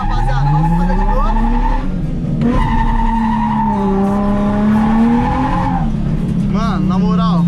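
A new car drifting, tires squealing loudly and steadily over a revving engine, a long continuous skid that pauses briefly and resumes, with voices shouting faintly underneath.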